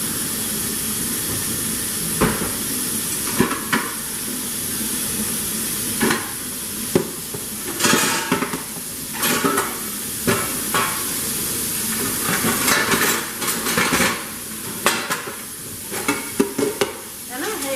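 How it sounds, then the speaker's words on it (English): Dishes being washed by hand in a home kitchen, with repeated clinks and clatters of plates and utensils over a steady background of running water, close and moderately loud. "washing the dishes."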